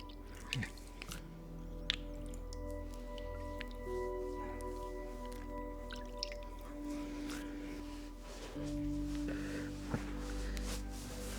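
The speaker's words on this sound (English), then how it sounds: "Now it's time to rinse your face." Water splashing and dripping as a face is rinsed during an at-home facial, with soft wet squishes and drips over a low steady hum and no talking.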